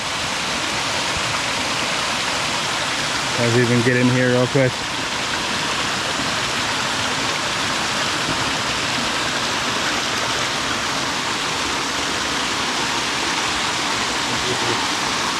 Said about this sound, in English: There's so many cool little waterfalls in here.